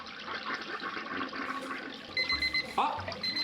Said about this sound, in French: let's go la chasse d'eau!